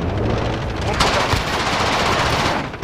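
Rapid turret machine-gun fire in Call of Duty: Modern Warfare, a dense continuous rattle of bursts with other in-game gunfire mixed close and loud throughout.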